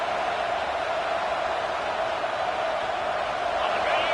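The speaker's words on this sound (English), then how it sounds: "Listen to the crowd energy here in the early going." Stadium crowd at a football game fills the air with a steady, dense roar of cheering and chatter, broad and continuous with no break, early in the game after an interception.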